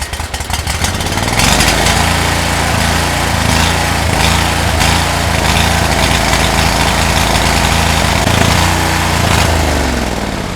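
A Cub Cadet 1641 garden tractor engine runs with the choke on, close and loud. It keeps up a continuous throbbing idle with a slightly uneven, rough character throughout.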